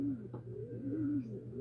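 Young racing pigeons coo steadily inside a loft, a low warbling call rising and falling close by with no talking.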